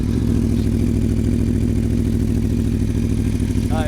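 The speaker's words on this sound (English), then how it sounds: "let's start this bike up and give you a little bit of sound" A 2020 Aprilia Tuono V4 1100 Factory motorcycle engine idles just after start-up, a loud, close, steady rumbling throb with a rapid regular pulse and no revving.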